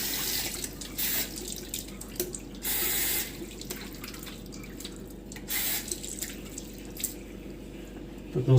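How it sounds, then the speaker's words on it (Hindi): Hands being washed under a running tap at a sink as part of a hand hygiene routine, with steady water flow that surges and splashes in several bursts, close and with no talking. "इसके बाद अपने हाथों को हम अच्छी तरीके से धो लेंगे"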